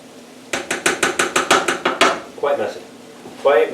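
A utensil scraping and clanking against a pan on the stove while food for a pizza burger on French bread is stirred, in a quick run of about ten evenly spaced strokes followed by a couple of looser scrapes.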